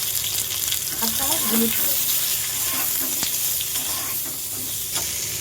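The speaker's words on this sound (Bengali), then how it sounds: "তো আমটা সুন্দর করে ভেজে নিয়েছি সরিষা আর শুকনো লঙ্কা দিয়ে" Cut mango fries in hot oil with mustard seeds and dried red chilli, a steady close sizzle and crackle beneath a brief spoken voice.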